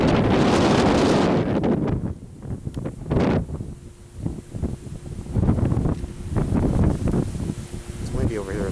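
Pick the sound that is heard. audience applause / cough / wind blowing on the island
wind blowing on the island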